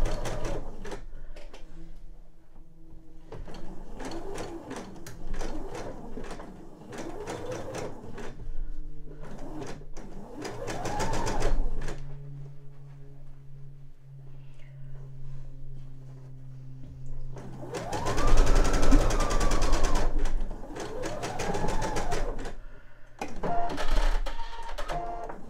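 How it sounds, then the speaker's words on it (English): Sewing machine stitching the curved edge of a fabric eye pillow, running in several separate mechanical bursts with brief pauses between them, close and moderately loud with no talking. "it's helpful to do two or three stitches that are straight in a row before you sew down the other edge"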